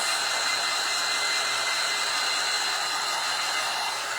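A hair dryer blows steadily on painted beads at close range, a constant whooshing hiss with a faint high whine, running alone without talk.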